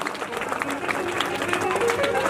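Clapping from an audience at a temple event honouring a devotee in Kundanpura, Hisar, Haryana, a dense continuous patter of many hands with crowd noise, moderately close and steady throughout.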